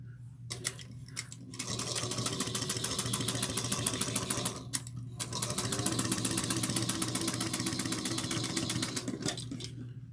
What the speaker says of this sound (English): I'm going to top stitch it at 1/8 of an inch